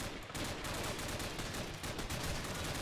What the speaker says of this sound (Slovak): Už sa tu strieľa, hashtag.